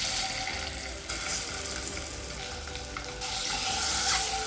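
Scored eggs fry in a pan for a Tamil egg kulambu, producing a steady, dense sizzle close up that swells slightly louder partway through, with no voices.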